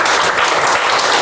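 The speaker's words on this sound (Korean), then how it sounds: "다시 한번 뜨거운 감사의 박수." Loud, dense applause of thanks from a church congregation at a Reformation 500th anniversary lecture, continuous broadband clapping from many hands with no talk over it.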